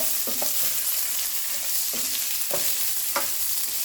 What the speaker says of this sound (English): So now we're going to add in our onions in here. And we're just going to mix it around with the onions.